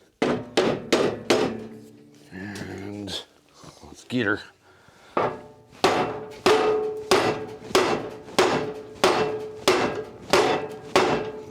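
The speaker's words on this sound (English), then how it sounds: "Give her a little bump up with a hammer," A mallet taps a shaft into a Craftsman LT1000 mower deck, delivering a quick run of sharp knocks, a pause with someone speaking and some handling noise, then a long steady series of evenly spaced blows.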